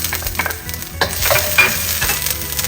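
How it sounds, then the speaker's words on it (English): Ginger stir-frying in a little oil in a wok over medium-high heat, a loud close sizzle with scraping and clattering of the spatula tossing it, continuous without speech. "into the wok, we're only going to add a little bit of oil and then stir in the ginger"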